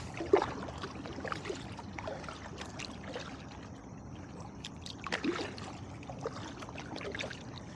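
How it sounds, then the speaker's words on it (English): A kayak paddle dips and strokes through the water near Mau Mau Island in Brooklyn, New York, with steady close splashing and trickling, and a few stronger swishes heard up close. "All right, and we're paddling."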